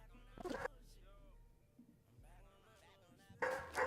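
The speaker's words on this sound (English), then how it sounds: "the dog's barking is kind of loud" A dog barks in loud short bursts at the start and end of a documentary scene filmed in Ukraine, while people talk quietly in between.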